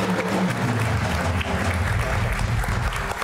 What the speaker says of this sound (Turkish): Beni alkışlamayın.